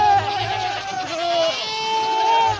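A Minecraft goat screams in a few drawn-out, wavering bleats, loud and close, with a faint low hum underneath.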